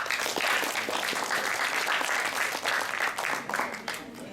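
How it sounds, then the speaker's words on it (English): An audience at an English program event in a hotel applauds with a sustained, even round of clapping that tapers off toward the end. "Please give her a round of applause."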